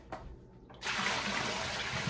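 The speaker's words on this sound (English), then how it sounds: "Pour out some of the water because it's too much." Water poured out of a pot of pasta for lasagna, starting with a faint trickle and then a steady, splashing gush into a sink that carries on to the end.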